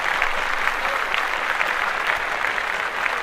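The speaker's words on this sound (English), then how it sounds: "I want to clap that up again for these young men." Steady applause from a crowd fills the room for the young men, an even, sustained patter of clapping with no break across the whole stretch.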